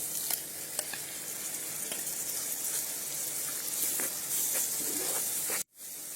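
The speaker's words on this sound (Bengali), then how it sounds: "মশলাটা আস্তে আস্তে কষিয়ে নিন" Garlic, cumin, ginger and chili pastes with salt sizzle steadily in hot oil over fried onions for a jackfruit and potato curry, a dense close hiss with occasional stirring scrapes, cutting off abruptly near the end.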